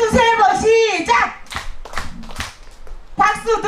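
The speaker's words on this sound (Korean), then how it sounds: "박수 세 번 시작!" An audience at a Korean street performance claps together on cue, a few sharp synchronized hand claps in a row following a loud performer's voice calling out, with more talk resuming afterward.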